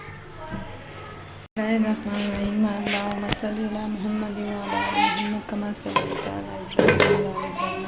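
Potatoes and green beans frying in a pan on a stovetop: metal clanks and scraping of a spoon against cookware with faint sizzling, while a person talks over it.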